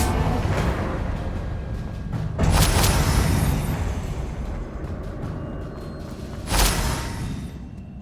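Confringo blasting spell exploding in Hogwarts Legacy, two separate booming blasts a few seconds apart, each a short, loud burst over a steady layer of game ambience.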